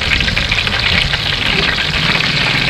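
Meat frying golden in a pan for homemade hamburgers, a loud, dense sizzle and crackle running steadily throughout, heard up close with no voices.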